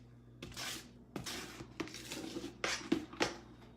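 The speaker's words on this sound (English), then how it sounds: "Back to stirring." Goat milk, oats and honey soap mixture being stirred in a pot, giving a run of close scraping and clinking strokes against the pot, about six distinct bursts in an irregular rhythm with no talking.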